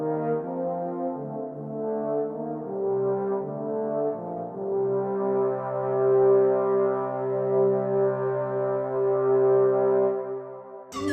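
Slow brass melody from the Final Fantasy XII soundtrack with a parallel fifth stacked on top, long sustained notes gliding in steady harmony, heard alone and ending with a brief click.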